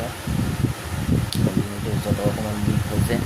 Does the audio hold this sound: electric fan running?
yes